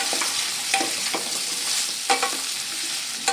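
Steady stirring of potatoes frying in a pan with cumin and coriander powder, continuous sizzle and crackle broken by several distinct scraping strokes of a spatula against the pan.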